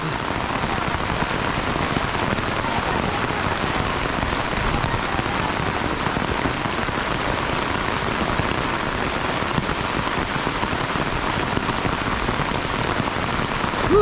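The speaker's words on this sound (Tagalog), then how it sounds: "Lakas ng ulan." Heavy rain from a typhoon pouring down in a dense, unbroken roar of drops hitting surfaces, loud and continuous throughout.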